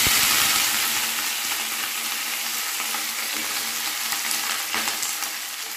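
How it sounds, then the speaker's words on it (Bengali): Bottle gourd stems and greens frying in a pan with whole cumin and green chillies over low to medium flame, a steady loud sizzle with occasional stirring scrapes throughout. "লো টু মিডিয়াম ফ্লেমে 7 থেকে 8 মিনিট ভেজে নেব"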